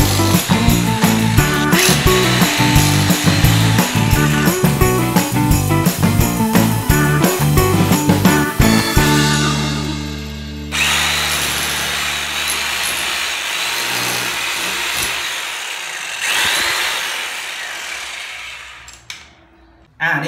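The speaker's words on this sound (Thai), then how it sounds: "นี่ครับก็เจาะรูเรียบร้อยแล้วนะครับ" A Kanto KTB-65A electric demolition hammer pounds into a wall with rapid rhythmic impacts, loud and close, then stops, leaving scraping and clattering of debris.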